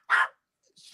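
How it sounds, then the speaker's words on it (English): A single short dog bark from somewhere off in the background, followed by a faint second sound, with near silence around it. "The dog in the background"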